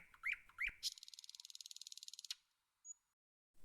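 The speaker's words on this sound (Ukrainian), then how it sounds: "Соловей співає, наче щастя лється." A bird sings two quick rising whistles, then a fast, loud rattling trill of evenly repeated notes, with a brief thin whistle after a pause.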